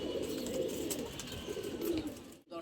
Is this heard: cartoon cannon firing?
no